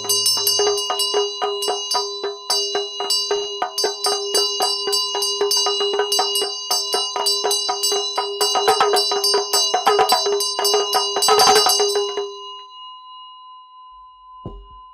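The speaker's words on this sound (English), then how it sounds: "So we ring the bell and we're holding the Vajra at our heart" Small Buddhist ritual bell rung in a Vajra practice session, a rapid, steady series of bright metallic strikes with shimmering overtones that sustain throughout, swelling briefly louder near the end before stopping abruptly.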